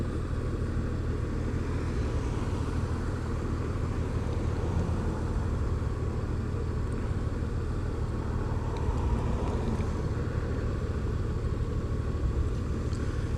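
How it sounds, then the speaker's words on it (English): Steady rushing wind roars inside an HJC full-face modular helmet while riding a 2018 Honda Gold Wing DCT, a constant low, dense drone with no pauses and no voices. "Getting a slight bit of wind noise in the helmet."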